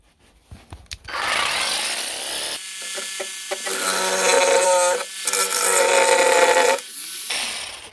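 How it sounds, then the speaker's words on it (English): A jigsaw with a speed control cuts wood in a shed, its buzzing blade starting after a few light knocks and running in long rasping stretches with brief dips and pauses, loud and close, without talking. "But compared to normal jigsaws, it's not fast."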